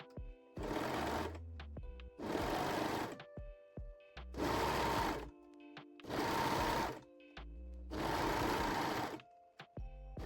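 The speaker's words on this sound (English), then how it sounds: "sew the back center seam with a serger or zigzag stitch" A serger or sewing machine stitching the back center seam of fabric panties, five bursts of rapid, loud, close mechanical whirring, each lasting about a second with short quiet pauses between.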